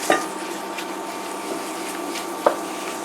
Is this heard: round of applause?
no